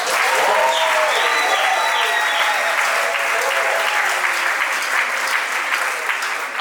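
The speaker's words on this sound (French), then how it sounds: "Est-ce que tu peux aussi acclamer pour toi-même?" Church congregation applauding and cheering during a Sunday-evening sermon service, a dense, steady wall of clapping held at full strength from start to finish with crowd noise mixed in.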